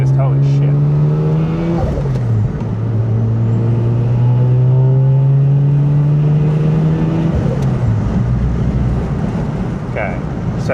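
Mazda RX-8 rotary engine on a Haltech R3 tune, revving loudly and steadily with a rise and dip around two seconds in and a falter near eight seconds as it misfires, with voices talking over it.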